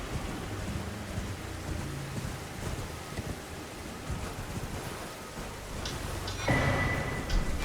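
Steady rain pours down in the Caelid area of Elden Ring, a dense, continuous hiss that holds throughout, with a brighter, louder burst near the end.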